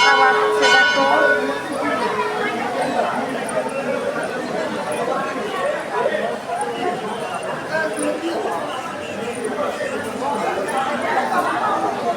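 Temple bells ring at the Sitakunda shrine, a short bright clang at the start, then a crowd chatters and people talk while faint ringing continues underneath.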